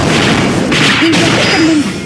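An artillery bombardment in the video game Closers gives a dense, continuous roar of loud crashing impacts and booms with no break, with faint voice fragments under the noise.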